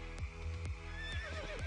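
A horse in Albion Online gives a short, faint whinny with a few hoof thuds behind it.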